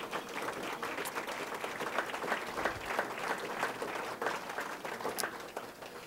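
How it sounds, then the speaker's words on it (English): Audience applause fills an awards dinner hall, steady dense clapping from many diners held at an even level for several seconds with no speech over it. "Take a round of applause."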